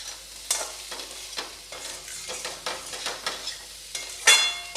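Cumin-spiced potatoes for jeera aloo fry in a pan over a low flame, sizzling steadily while a spoon scrapes and stirs through them in irregular strokes. One sharper clatter comes near the end, and no one speaks.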